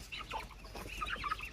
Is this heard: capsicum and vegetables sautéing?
no